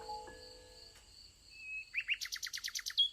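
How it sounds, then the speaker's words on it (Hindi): A small bird sings softly, a few thin whistled notes followed by a quick run of bright repeated chirps, close and alone in a quiet space. "प्यारा पक्षी खूबसूरती से गाना शुरू कर देता"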